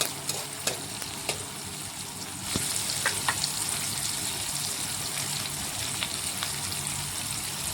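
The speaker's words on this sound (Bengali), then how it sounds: "এখন বেশ কিছুক্ষণ সময় নিয়ে পেঁয়াজটা লাল লাল ভেজে নিতে হবে।" Onions frying in mustard oil as the base for biryani, giving a dense, steady sizzle with scattered spatula clicks and a brief louder surge partway through, close up and free of speech.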